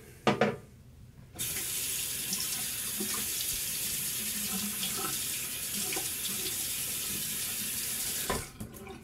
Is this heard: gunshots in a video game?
no